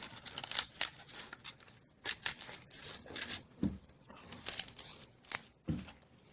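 Leafy greens have their thick stems torn out by hand, giving a run of close, crisp ripping and crinkling bursts separated by short quiet gaps.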